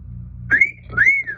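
Two short rising-and-falling whistles, close and clear, a person imitating the squealing whine of a toy microphone.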